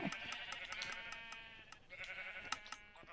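Repeated sheep bleats from a Minecraft wool farm, several overlapping calls at steady moderate volume with faint game sounds beneath, no talking.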